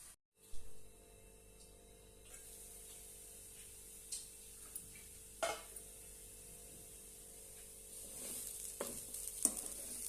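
Grated sweet potato cooking in a covered pan as a fasting dish, with a faint steady hiss and sizzle under the lid, broken by a few soft clicks and light taps.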